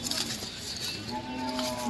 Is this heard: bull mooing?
yes